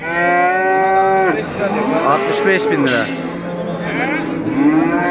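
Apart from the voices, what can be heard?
dairy cow mooing at livestock market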